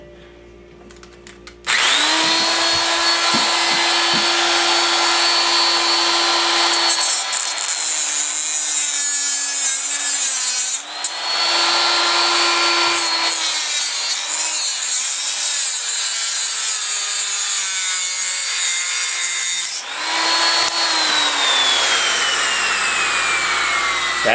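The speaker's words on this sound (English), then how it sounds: "I'll take my die grinder and cut this off here." A die grinder whines steadily while cutting into an Evinrude/Johnson outboard motor mount, a loud sustained high-pitched grind with a constant motor tone that dips briefly around 11 and 20 seconds before resuming, with no talking.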